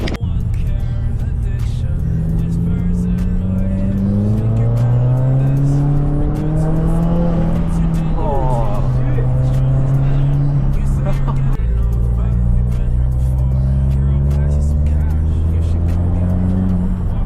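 A 2015 Subaru WRX with a TOMEI catback exhaust revs repeatedly, its deep rumbling note rising and falling close by, with people talking over it.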